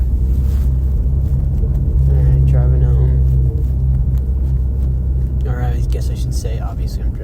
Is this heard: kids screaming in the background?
no